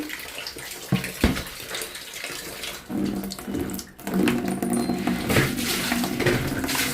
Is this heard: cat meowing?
no